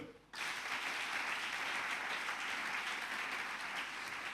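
A church congregation bursts into steady, sustained applause after a brief quiet start, a dense clapping wash that fills the room and holds evenly to the end.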